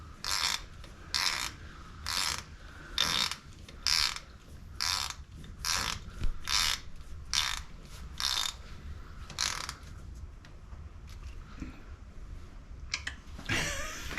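A ratchet wrench tightens the head bolts on a 1942 Ford GPW engine, bursts of close clicking repeated in a steady rhythm with short pauses between strokes, alone without talk.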